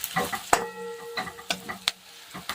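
Turmeric and coriander powder are stirred into sizzling onions in a pan, with a spatula scraping and tapping in short irregular strokes over a soft frying hiss, close and fairly loud.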